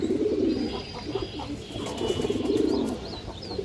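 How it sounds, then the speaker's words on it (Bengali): Young home-bred pigeons coo in a close, steady low rumble that rises and falls across several overlapping calls, with a few faint chirps above. "দর্শক এইখানে কিছু বাচ্চা কবুতর আছে মাশাআল্লাহ, এগুলো আমার ঘরের বাচ্চা"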